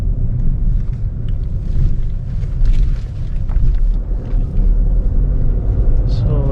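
A 2020 Honda City BS6 with a diesel engine rumbles steadily at low pitch from inside the cabin on a test drive, its drone continuous under someone talking.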